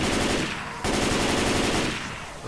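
Dense automatic gunfire from the zombie shooter Left 4 Dead's Blood Harvest farmhouse finale, a loud continuous rattling burst that briefly drops off near the start before resuming and slowly thinning out.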